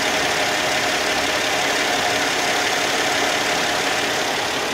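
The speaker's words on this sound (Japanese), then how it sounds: "エンジンオンです。" A 2004 Mercedes-Benz E320 engine idles steadily at close range, heard from the open engine bay, a continuous even hum with a faint rhythmic ticking and no voices.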